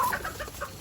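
Chickens cluck softly in a garden, a few brief throaty calls close by, quick and scattered over a faint background.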